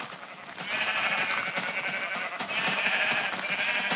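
Sheep bleat in Minecraft, two drawn-out wavering bleats in a row, close and clear over a quiet background.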